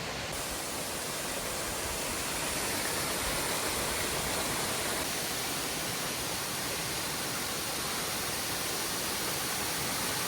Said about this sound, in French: Arrivé à la cascade du Saut de la Truite